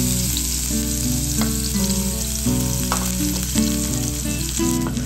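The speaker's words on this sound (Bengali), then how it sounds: "তেলটা গরম হয়ে এলে এবার আমরা পেঁয়াজ কুচিটা দিয়ে দিলাম।" Chopped onion frying in hot oil, a dense steady sizzle that stays loud and even throughout, with no talking.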